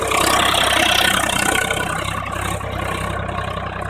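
A Swaraj 735 FE 39 HP tractor engine runs steadily at idle, a continuous close diesel chug with a low throbbing rumble that eases slightly in level over a few seconds, with no talking.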